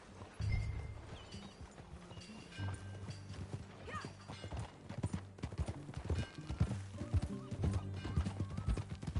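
Horse hooves clip-clop steadily with occasional neighing and whinnying in the Red Dead Redemption 2 video game, moderately loud and continuous, layered with game ambience and brief low speech.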